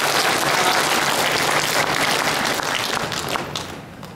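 An audience at a Loma Linda Sabbath church service bursts into sustained applause after a lecture, dense clapping that holds steady for several seconds before easing slightly.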